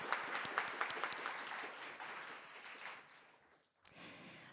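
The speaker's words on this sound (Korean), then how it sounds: "여러분 다시 한번 뜨거운 박수로 축하해 주시기" An audience claps at a Korean fair-trade compliance forum and certificate award ceremony. Quiet, sparse, crisp claps build into soft, steady applause that fades out, followed by a brief low murmur of room noise.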